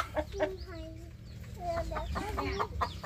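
A Light Sussex hen clucks in short bursts while laying, with several tonal, rising calls standing out over a low background rumble and some faint talk.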